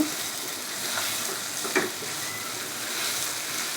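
Green chilies and turmeric sizzling in a pan, a steady broadband frying hiss throughout with a couple of faint stirring clicks near the middle, no talking.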